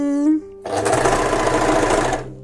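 An overlock serger sewing machine starts up after a brief tone and runs fast, a loud continuous mechanical whir with rapid stitching chatter that holds steady for nearly two seconds before stopping.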